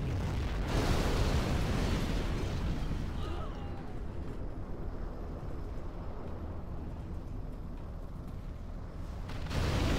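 Nuclear missile launch and detonation in C&C Generals Zero Hour: a loud, sustained roaring blast rises sharply and then rumbles on steadily for several seconds before swelling again at the end, with no talking.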